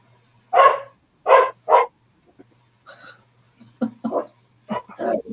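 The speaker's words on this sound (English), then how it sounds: "My dog is barking in response to your dog" A dog gives three sharp barks, then a pause and a burst of quicker, lighter yips and barks close by in an otherwise quiet room.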